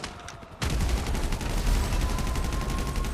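Loud, sustained rapid gunfire from Grand Theft Auto V bursts out after a brief quieter moment, a dense rattling volley that continues steadily to the end.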